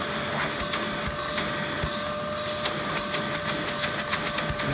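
A Hoover Z700 bagless upright vacuum runs steadily in tool mode with a constant loud whine, while faint clicks and rattles of debris passing through the hose come and go.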